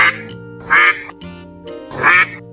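A duck quacks in three loud, raspy bursts spaced evenly apart, set over a steady backdrop of gentle background music with no talking.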